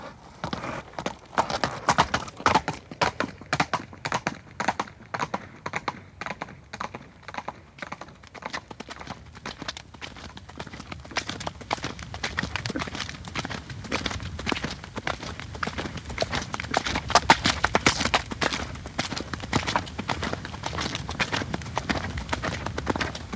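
Horse hooves clip-clopping in a fast, continuous rhythm, growing denser and louder as the gallop goes on, with no voices.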